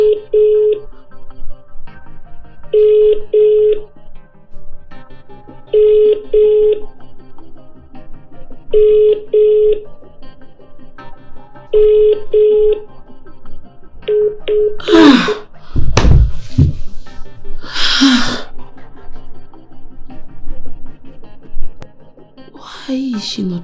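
A phone call rings unanswered in a Nigerian film drama: a steady double-pulse ringback tone repeats about every three seconds, six times, then gives way to loud gasps and moaning vocal sounds.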